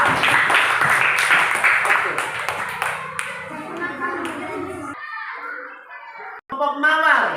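A classroom of sixth-grade children claps together for a group, brisk dense applause that fades out after a few seconds, with a teacher's voice and children's chatter following.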